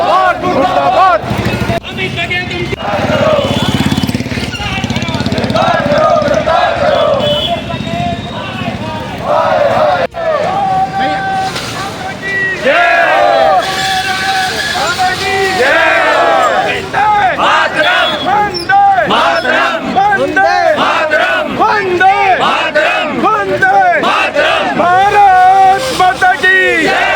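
A large Sindhi community protest rally, led by women, fills a street with loud, sustained crowd chanting and shouted slogans. The voices overlap in dense waves with brief pauses, and the whole sound is close and forceful.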